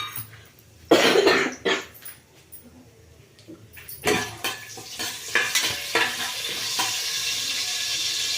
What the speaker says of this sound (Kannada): ಸ್ವಲ್ಪ ಜೀರಿಗೆ ಮತ್ತು ಇಲ್ಲಿ ನಾನು ಇಟ್ಕೊಂಡಿರೋ ಪಲಾವ್ ಸಾಮಾನು ಹಾಕ್ಕೊಳ್ತಾ ಇದ್ದೀನಿ